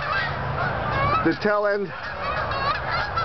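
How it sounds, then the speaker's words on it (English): Migrating geese give a single clear honk partway through, loud and close above a steady outdoor rushing noise, with a voice speaking briefly in the clip. "And of geese that are migrating."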